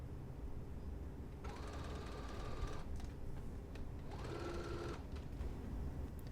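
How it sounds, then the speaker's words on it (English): A sewing machine stitches the seams of a Butterick 5850 bodice in two steady whirring runs, the second shorter, with a quiet pause between them and no talk. "go ahead and take it to your sewing machine and sew them down now"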